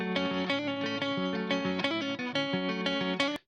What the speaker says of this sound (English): So that's just squishing it and then adding a tiny bit of harmonic distortion